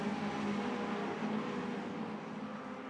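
Caterham 420R race cars accelerating around the Brands Hatch circuit, a moderately distant engine roar that swells and fades slightly over a few seconds, with no voices.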